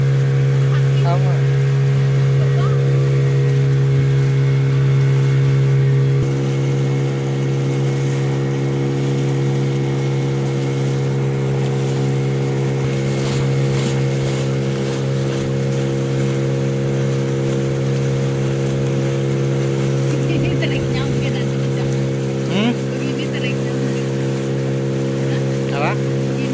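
A motorboat engine drones steadily while the boat travels toward Kenawa Island in West Sumbawa, a loud, close, constant hum with strong low harmonics under wind and faint water noise, lasting the whole stretch.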